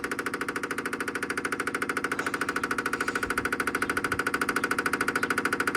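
A truck engine runs briefly on a test fire with no coolant and no fuel supply, giving a fast, even, rattling knock that pulses steadily and stays close and moderately loud throughout.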